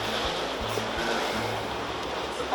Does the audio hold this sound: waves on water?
yes